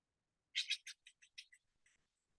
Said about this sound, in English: might hear the bird sounds around.